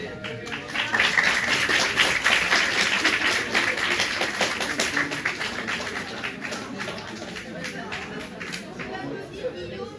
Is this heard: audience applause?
yes